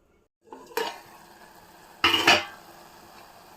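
A spoon stirs onion-tomato curry in a pan in two short, scraping bursts, with faint sizzling as it simmers between them. Nobody speaks.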